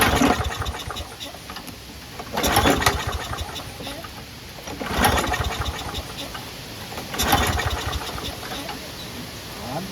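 A small engine on outdoor power equipment is cranked repeatedly and fails to start, with three cranking bursts about every two and a half seconds over a steady background hum.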